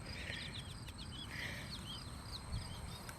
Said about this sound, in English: I'm hearing some birds flying overhead.